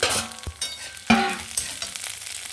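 Mustard seeds, fenugreek, cumin and chillies fry in hot oil with a bright, close sizzle, punctuated by a couple of sharp stirring clicks and scrapes in the pan.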